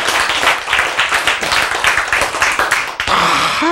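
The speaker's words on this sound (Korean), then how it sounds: "박수해." An audience claps together during a Korean lecture on healing diabetes, a loud, dense burst of hand claps that continues steadily and then breaks off near the end.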